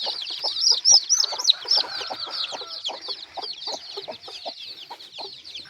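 Native country chickens on a poultry farm cluck and chatter in a busy, irregular stream of short, close calls, with a few louder squawks early on and no talking.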